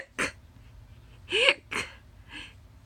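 A person imitates hiccups with their voice, producing four short, sharp gulping yelps spaced irregularly over a few seconds, fairly close and moderately loud against a quiet room.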